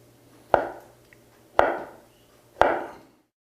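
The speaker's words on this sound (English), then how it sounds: "What I'm going to do is carve off the ends, cut some sticks." A knife chops through a block of tempeh on a cutting board, cutting thin sticks: three evenly spaced, crisp, close thuds about a second apart, with a quiet room in between and no speech.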